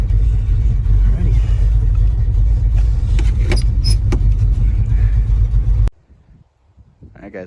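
An Oldsmobile Cutlass drives at a drag strip on a warm-up run, giving a loud, steady engine and road rumble with some creaks that cuts off abruptly near the end, leaving faint sounds.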